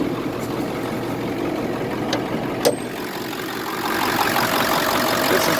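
A rebuilt Ford Power Stroke 7.3 diesel engine idles with a steady, even rumble at moderate loudness, holding constant throughout with a faint brief click partway through and no talking.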